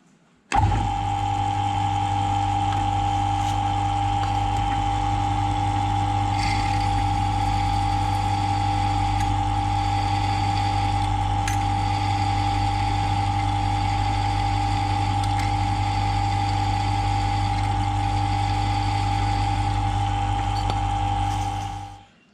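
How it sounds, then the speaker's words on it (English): A drill runs while boring a hole for a 6mm cap screw in a wheel guard for a Quorn tool and cutter grinder, a steady whining motor hum that holds unchanged for about twenty seconds before stopping, with no speech. "I've just drilled that for a 5mm, for a 6mm cap screw"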